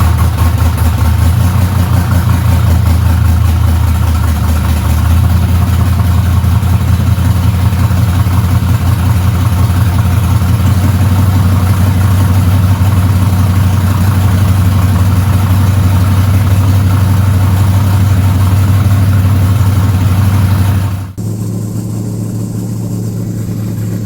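A Big Cam 5.3L V8 swapped into a Chevy S10 truck idles steadily with a deep, loud low rumble, then the level drops slightly near the end as the idle is brought down to about 950 rpm.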